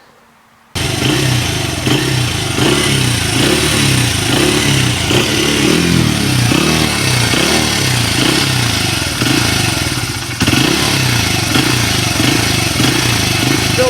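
A Honda XR80 motorcycle engine starts after a brief quiet moment, then runs loudly and close with a rough, uneven, pulsing idle and a fast mechanical clatter, briefly dipping before resuming.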